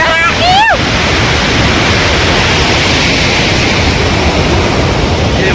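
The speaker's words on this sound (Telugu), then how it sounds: "బొక్కల నుంచి దూరేసుకుంటూ వాటర్ ఫాల్ దగ్గరికి అయితే వెళ్ళిపోయాము." Kunthala waterfall heard close up, a loud, dense, unbroken roar of falling water filling the scene, with a brief whistle-like sweep near the start and no clear talking.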